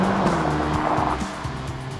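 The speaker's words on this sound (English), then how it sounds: "We're driving a bright red Ferrari" A bright red Ferrari Roma with a V8 engine drives along a road, its engine note rising and shifting through gears in a steady, close-up interior drone.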